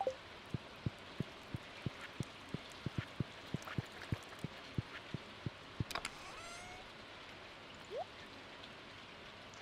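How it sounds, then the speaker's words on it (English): Rain in the video game Stardew Valley, a soft, steady patter with a regular series of distinct drip-like ticks, faint and close, with a few brief chimes near the end. "It is raining, so that's good."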